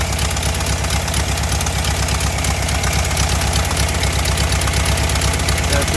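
An air-cooled Volkswagen engine idles steadily during a tune-up, a loud, even, pulsing rumble with a regular beat and no talk over it.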